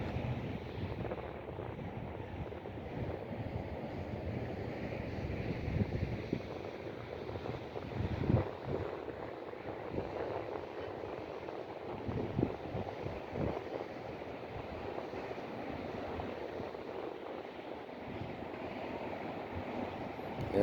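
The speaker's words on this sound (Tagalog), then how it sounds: "Nandito tayo ngayon sa tabi ng dagat." A steady wash of sea waves rolls in at a beach in Al Khobar, Saudi Arabia, broad and continuous, with wind buffeting the microphone and surges swelling and fading throughout.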